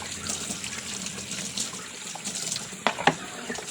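Water is poured into an animals' drinker, a steady trickle and splash close by with a couple of small knocks near the end.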